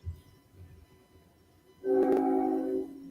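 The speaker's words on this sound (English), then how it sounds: "I can hear the train." A train rolls past on tracks close to a home in Tampa, Florida, its rumble rising suddenly after a quiet stretch and holding loud and steady, with a tonal, horn-like ring over it.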